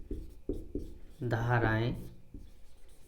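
A teacher writes on a classroom board in a Hindi grammar lesson, making several short scratchy strokes and taps. A voice briefly speaks in the middle of the writing.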